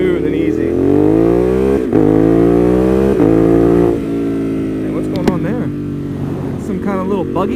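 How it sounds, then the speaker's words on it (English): A 2020 Ducati Monster 821 Stealth is held at full throttle, its loud, close engine pitch climbing repeatedly and then dropping sharply at each gear change as it rips through the gears. "It's so fun to just be able to hold the throttle wide open and just rip this thing"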